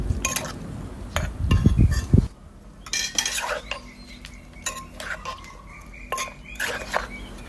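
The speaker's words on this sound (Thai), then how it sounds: "เสร็จแล้วก็ตำส่วนผสมคลุกเข้าให้เข้ากัน ตำค่อยๆจ้า" Shrimp papaya salad with fresh shrimp and Vietnamese pork sausage pounded in a mortar: a quick run of heavy, close thuds, then scattered clinks and scrapes of the pestle and utensils against the bowl, with no talking.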